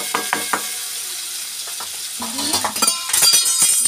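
Ginger-garlic paste frying in a pan with chillies and dried fish, a close sizzle with a few sharp utensil clicks and scrapes that grow busier and louder toward the end.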